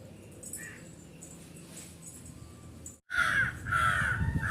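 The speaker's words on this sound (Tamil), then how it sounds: "காக்கா தான் உட்காந்து இருக்கு," A crow caws several times, sharp and nearby. Two loud, harsh calls follow a brief break, over a rustling outdoor background, with fainter bird sounds earlier.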